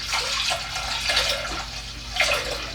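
Homemade mead with dried lemon and orange peel pours from a vessel into a transfer container set in a sink, a steady liquid trickle and splash running close and fairly loud throughout.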